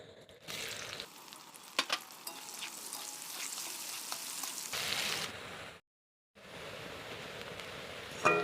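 Chopped onions frying in hot oil for an egg, potato and poppy-seed dish, a steady close broadband sizzle with a few sharp crackles, briefly cutting out before resuming.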